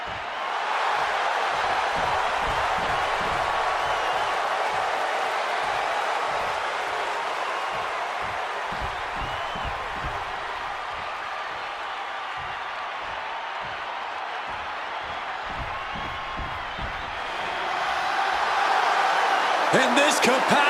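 A big capacity crowd roars in a WWE 2K26 video game arena, a loud steady wash of cheering that rises even higher near the end, with rhythmic thumps and a commentator's voice running underneath.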